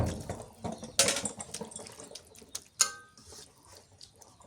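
Water is poured into a cooking pot during village-style river fish cooking, with intermittent splashing and gurgling bursts, close by, over faint outdoor background.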